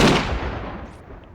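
A single loud gunshot from GTA 5 gameplay cracks close and sharp, then its echo fades away over about a second.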